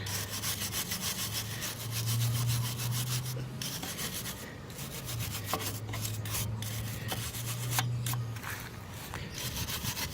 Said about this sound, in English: I'm going to go ahead and clean some of the rust off of this.